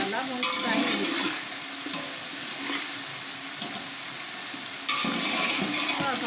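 Masala for chicken Chinese pulao frying and being stirred in a pan, a steady close sizzle with scraping strokes throughout, swelling louder in bursts near the start and end, no voices.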